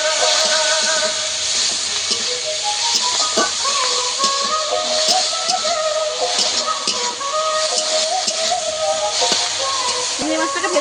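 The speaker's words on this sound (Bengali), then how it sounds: "চিংড়ি মাছটাকে ভেজে নেব।" Turmeric-coated prawns frying in hot oil in a heated wok, with a loud, continuous hiss and sizzle plus occasional scraping and clinking of the utensil throughout.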